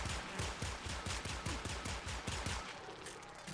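Rapid bursts of heavy automatic gunfire from a heavy gunner enemy in the video game Warframe, a dense run of sharp shots over about two and a half seconds before tailing off.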